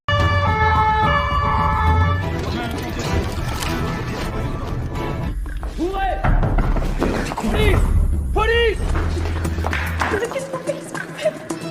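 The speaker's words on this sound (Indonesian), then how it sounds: "tiba-tiba terdengar suara sirene polisi mendatangi rumah mereka" A siren wails through dense background noise, its pitch sweeping up and down in repeated rises, loud and fairly close, with voices briefly audible.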